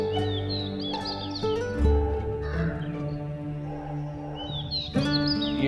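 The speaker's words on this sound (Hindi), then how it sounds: "चिड़ियों की चहचहाट आ रही है।" Small birds chirp and twitter nearby outdoors, scattered calls over a soft steady background.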